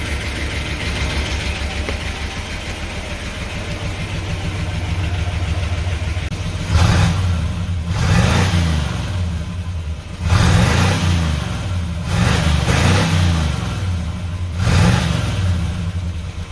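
Car engine fitted with an aftermarket Amazon exhaust, idling steadily then revving in four or five sharp blips, each rising and falling, loud and close with no talk.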